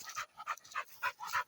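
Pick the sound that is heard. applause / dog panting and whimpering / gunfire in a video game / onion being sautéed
dog panting and whimpering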